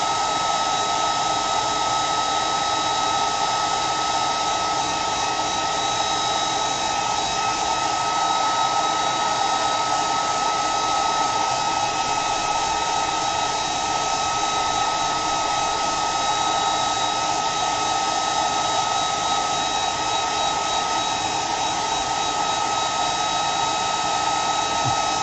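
A steady, loud airy whir like a hairdryer runs continuously without a break from an airbrush spraying paint, with a constant high-pitched hiss and hum.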